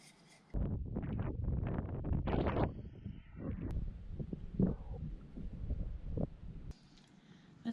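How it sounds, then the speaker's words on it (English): Gusty wind blows outdoors around an off-grid homestead on a chilly day, buffeting the microphone in loud rushing surges that come and go, with quieter stretches at the start and end. "It's windy out here."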